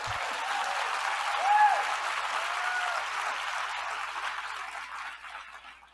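Audience applause at a talk by a pediatrician turned congressional representative fills the room as a broad, even wash of clapping. It swells slightly early on, then slowly fades away toward the end.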